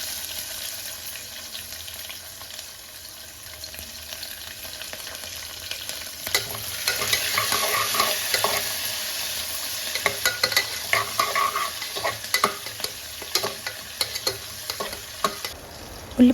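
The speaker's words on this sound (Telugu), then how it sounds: "బాగా కలుపుకుంటూ ఫ్రై చేయాలి. మనం ముందుగా కట్ చేసి పెట్టుకున్న ఉల్లిపాయలను యాడ్ చేసుకోవాలి." Chopped onions frying and being stirred in a pan for a meal maker pulao, a steady hiss that swells into denser sizzling and frequent scraping strokes of the spoon, with no talking.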